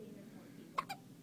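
A child hiccups twice in quick succession, two short sharp bursts standing out over a faint, steady room hum.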